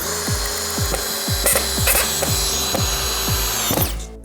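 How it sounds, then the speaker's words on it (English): A Ridgid brushless subcompact driver runs on speed 1, driving a 3-inch drywall screw into wood. The motor whines steadily, with a rapid series of sharp ratcheting clicks spaced about half a second apart over roughly four seconds. "It takes a tremendous amount of torque to actually drive 3 inches of drywall fastener into 3 inches of wood."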